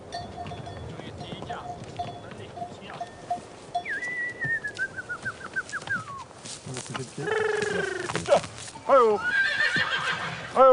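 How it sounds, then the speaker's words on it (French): A Corsican horse mare and her foals neigh and whinny in a series of loud, close calls, with long shaky whinnies rising and falling amid birdsong and faint clopping. "une jument et ses poulains vivent ici"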